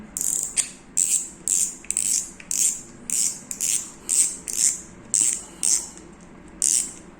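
Turning the handle of a freshly reassembled fishing reel gives about a dozen bright, whirring ratchet bursts in a steady rhythm with short pauses between. The sound is close and clear with no talk.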